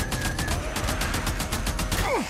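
Machine gun fire in the video game Days Gone rattles out in fast, loud repeated bursts across the whole stretch, ending in a falling whoosh.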